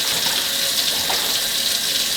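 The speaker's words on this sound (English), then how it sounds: "I'm going to rinse the meat off" Cold tap water gushes steadily over raw, salty chicken being rinsed in a sink, a continuous bright hiss of running water with no talking.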